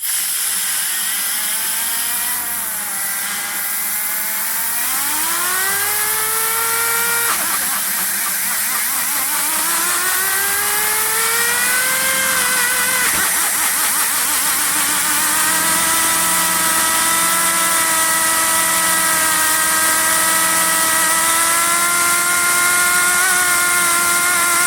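A boosted drag car with straight-cut gears screams through a dyno pull, its engine note rising in long sweeps with gear whine and hiss, loud and continuous from start to finish.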